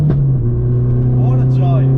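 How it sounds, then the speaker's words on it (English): A modified Mini's engine drones steadily and loudly throughout, with a brief rise in revs near the start and a higher whine later; a voice talks over it. "Let's take this car for a spin."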